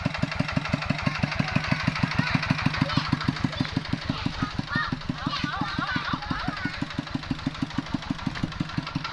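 A vehicle engine labours up a rough dirt track toward a field, with a fast, steady knocking chug and rising revs under someone talking nearby.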